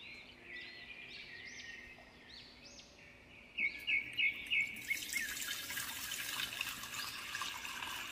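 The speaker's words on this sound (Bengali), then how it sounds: "এত জল তুমি কি করতে মেশাচ্ছ?" Water pours and splashes into milk in a cartoon kitchen, a steady trickling stream that turns louder and more spattering halfway through, with bright chirping tones early on.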